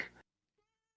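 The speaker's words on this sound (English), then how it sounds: "What are you gonna do if he keeps meowing, dude?" A single short cat meow at the start, close and clear, followed by near silence with a faint soft blip.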